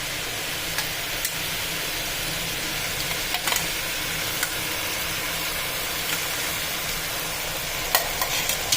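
Chicken frying in a pan with curd just added and stirred in, a steady hiss and sizzle throughout, with occasional light scrapes of the spoon.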